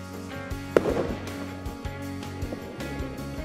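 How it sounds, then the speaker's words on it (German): A firework rocket launches with a single sharp pop and a brief burst of rushing noise near the start, heard over a steady low hum outdoors. "Dennis vorne wird jetzt die erste Rakete starten"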